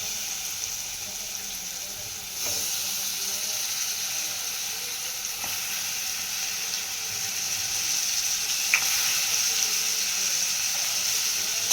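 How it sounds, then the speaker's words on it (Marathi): Big prawns dropped into spicy gravy give a steady, moderately loud sizzle and bubbling hiss across the whole stretch, growing slightly stronger after the first couple of seconds, with a few faint clinks. "आता यामध्ये आपण प्रॉन्स टाकणार आहोत"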